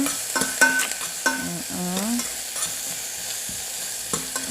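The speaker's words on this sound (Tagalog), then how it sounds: "Gisahin lang natin ng maigi." Onions are sautéed in a pan for a spicy chicken with yogurt dish, a continuous frying sizzle broken by several bright metallic clinks and scrapes of a spatula against the pan, with no speech.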